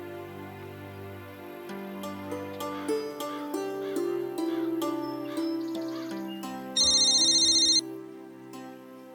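A telephone rings in one short burst near the end of a Hindi TV drama scene, loud against a steady bed of background music, with no one talking.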